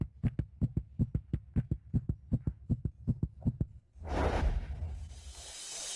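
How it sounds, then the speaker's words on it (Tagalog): A fast, steady heartbeat thumps about sixteen times in a regular, quick rhythm. It gives way to a loud, breathy whoosh of noise at the end. "Ang bilis ng tibok ng puso ko."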